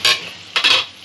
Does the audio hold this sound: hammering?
no